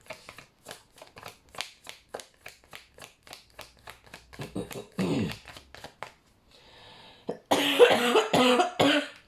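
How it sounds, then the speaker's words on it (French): Hoarse, repeated coughing from a woman with a strong lingering cough, a rapid sequence of short dry bursts close to the mic, followed by her speaking. "j'ai vraiment encore cette toux qui est très forte"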